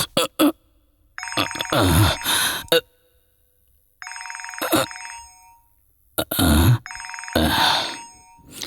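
A telephone rings in repeated bursts of electronic ringtone, loud and close, in a Tamil television serial scene, with brief thumps and voice-like sounds between the rings.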